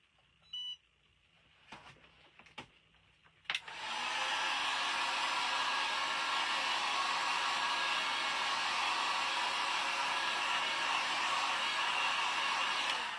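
A hair dryer drying paint on repurposed wall decor: after a few faint clicks it switches on and blows in a loud, steady, continuous whoosh until the end, close by.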